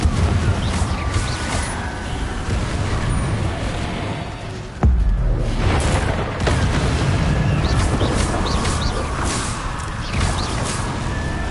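Confringo blasting spells going off in Hogwarts Legacy: a loud, continuous rumble of booming blasts with a sharp impact near the middle, all dense game explosion noise with no voices.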